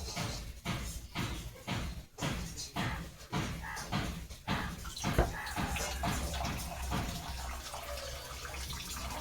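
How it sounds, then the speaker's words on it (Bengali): Starchy water is poured off a pot of cooked rice, a close gurgling stream that sputters in irregular pulses before settling into a steadier trickle, no voices. "ভাতটাকে ফ্যান গালিয়ে নিই।"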